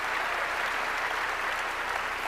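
A church congregation applauds in a steady, dense wash of clapping, loud and continuous throughout with no talking over it.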